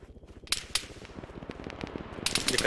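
Arma 3 gunfire snaps in sharp, separate shots, a couple of loud close cracks early, then a quicker cluster of reports building toward the end over a low rumbling background.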